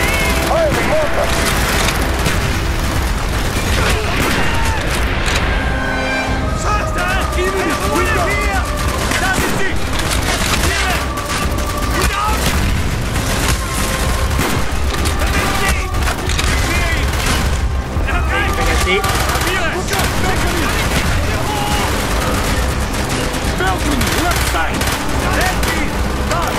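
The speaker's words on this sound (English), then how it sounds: "Fire the mortar!" Dense, continuous battle din of mortar and gunfire in the Call of Duty Black Ops video game, repeated shots and booms layered over a thick, constant roar throughout.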